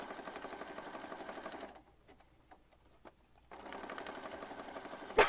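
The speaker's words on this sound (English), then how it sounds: "So I'm just going to stitch and then rotate and stitch." A sewing machine stitches through a handmade junk journal, a steady close mechanical whir that stops for a pause of about two seconds while the work is rotated, then resumes running evenly.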